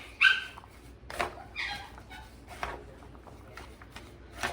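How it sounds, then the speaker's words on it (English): Dogs at a home cookout make short yips, whines and scuffling sounds in bursts over a few seconds, close by and moderately loud, with no one talking. "These damn dogs."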